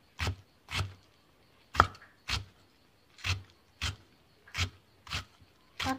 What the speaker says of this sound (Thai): เอาผักดองมาซอยก่อนนะเจ้า